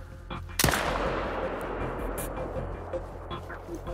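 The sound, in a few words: gunshot in a hunting video game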